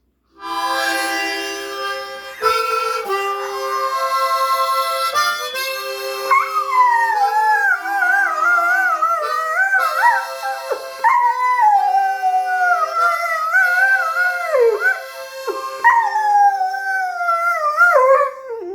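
A dog howls along to a played musical instrument, its long wavering howls rising and falling over sustained bright tones, loud and close, with a few short gaps.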